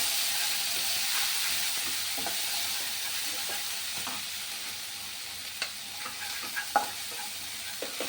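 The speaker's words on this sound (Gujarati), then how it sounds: "હવે આપણે જે આદુ મરચાં અને લસણ લીધા હતા એને આપણે થોડું છાંટી લઈશું" Ginger, chili and garlic fry in a pan for ulta vada pav, giving a steady, even sizzle throughout, with a few faint stirring clicks near the end and no talk.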